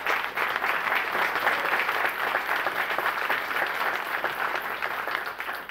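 A crowd at a New Year's greetings speech in Valence gives sustained, even applause, a dense wash of clapping that holds steady for several seconds at moderate distance.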